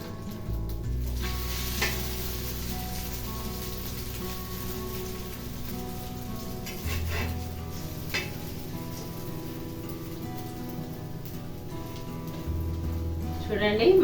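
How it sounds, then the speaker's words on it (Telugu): Omelette frying in hot oil on a pan over a medium gas flame, a steady close sizzle running throughout with light stirring clatter and a person talking over it. "పెంక మీద నూనె వేడింది. కొంచెం ఆమ్లెట్ వేసేసుకుందాం."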